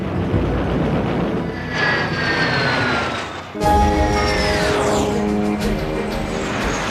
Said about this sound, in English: Soviet-built MiG-15s fly into action for the very first time.